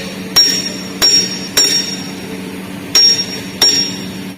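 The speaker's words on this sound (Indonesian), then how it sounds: "Kemudian kita tutup menggunakan palu." A hammer taps a hydraulic cylinder cover into place on a KOUYI NSX-375-2C injection molding machine during a seal replacement: five loud, sharp metallic strikes at uneven intervals, each ringing briefly, with no talking.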